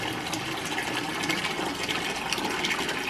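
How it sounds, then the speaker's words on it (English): Water gushes steadily from a farm hydrant outdoors in minus-30-degree cold, a loud, continuous rushing flow that fills the whole stretch without pause. "This might be the last water of the year from this hydrant."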